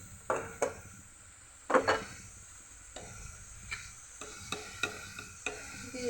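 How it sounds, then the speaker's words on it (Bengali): Onions sizzle in oil, a soft frying hiss broken by repeated scraping and knocking of a spatula against the pan as they are stirred, fairly close and with no voices. "পেঁয়াজটাকে আমি ভেজে নিচ্ছি তেলের মধ্যে।"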